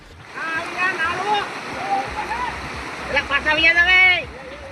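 Fast-flowing flood water rushes through a river during heavy rain in Gujarat, a steady broad roar that sits beneath loud, continuous talking.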